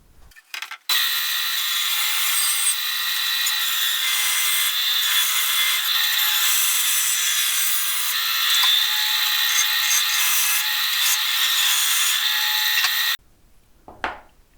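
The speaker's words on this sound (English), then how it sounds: "I'm just going to take it to the bandsaw now and trim off these that kind of go over the edge of the board." A bandsaw trims overhanging binding on a wooden ES-335-style guitar body, a loud continuous cutting whine running about twelve seconds after a brief start, then stopping abruptly.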